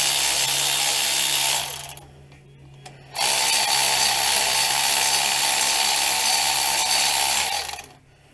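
A power tool whirs loudly to run out 14mm brake caliper bolts on a 2009 Dodge Avenger, two long continuous bursts close by with a brief pause between them.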